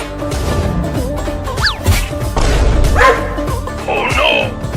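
A puppy barks and yips in short bursts amid busy cartoon chase sounds, thumps and background music, with a voice nearby.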